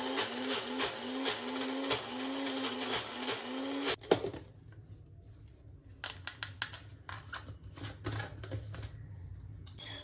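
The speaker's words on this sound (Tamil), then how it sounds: "தண்ணி கொஞ்சம் சேர்த்து அரைச்சிக்கலாங்க" Mixer grinder whirring as it blends mustard seeds and urad dal with a little water into chutney, a steady rising whine for about four seconds before cutting off, then scattered clinks and handling noises.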